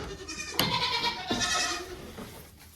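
Sheep and baby goats bleat at a farm, several overlapping cries, loud and close, one call rising sharply then others trailing off with no talk.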